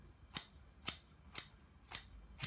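Scissors are drawn across a diamond sharpener in five evenly spaced, crisp scraping strokes, close and alone with quiet pauses between them.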